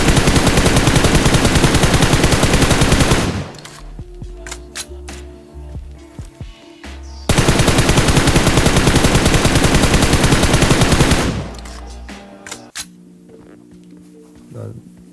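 Sustained automatic gunfire from a weapon in the mobile game PUBG Mobile blasts in two long, loud rapid bursts of several seconds each, separated by quieter gaps with faint clicks and game sounds.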